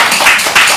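People clapping during a meditation gathering, a brief loud burst of close, dense hand claps with a couple of stronger swells.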